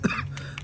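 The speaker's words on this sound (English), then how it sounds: "There's that cough again." A single short cough, close and fairly soft, bursts once and fades quickly over a low steady background hum, with no speech around it.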